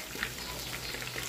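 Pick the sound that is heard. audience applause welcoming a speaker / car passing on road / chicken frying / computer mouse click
chicken frying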